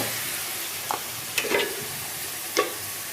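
Fried potato pieces are stirred into hot masala that has released its oil, giving a steady sizzle with three or four distinct spatula clinks and scrapes against the pan.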